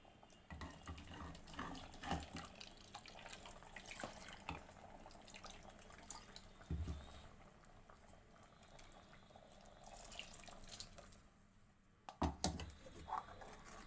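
Water swished around a mixer jar and poured into a simmering tamarind okra curry, with soft irregular splashing and trickling close by, quiet throughout and without speech.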